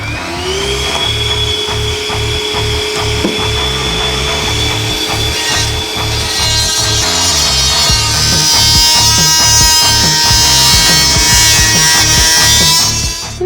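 A power saw whines steadily through engineered hardwood flooring with a vacuum running alongside, constant motor drone underneath, loud and close, the pitch rising slightly partway through.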